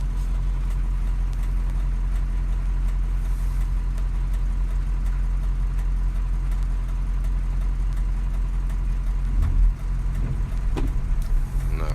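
A 2004 car's engine runs steadily after a highway drive, a continuous low mid-pitched hum at idle or low speed, close and unbroken for the whole stretch with a small bump near the end.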